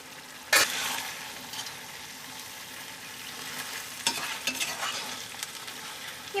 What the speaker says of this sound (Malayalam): ഇനി നമുക്ക് ഈ കറി നമുക്കൊന്ന് ഇളക്കിയിടാം.